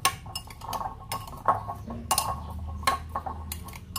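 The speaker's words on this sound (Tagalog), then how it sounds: "Haluin natin ng maigi kasi para magano yung asin." Salted mixture being stirred in a bowl in a home kitchen, giving irregular clinks and scrapes of a utensil against the bowl, close and moderately loud, with no talking.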